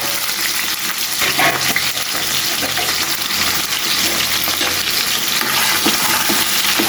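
Onion and garlic frying in a pan for cooking greens make a loud, continuous close sizzle with light stirring throughout.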